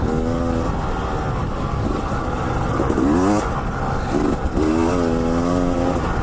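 A 2019 Husqvarna TE300i two-stroke dirt bike engine revs and climbs through the throttle, close and loud, with rising and falling pitch sweeps as it is ridden over steady wind and engine rumble.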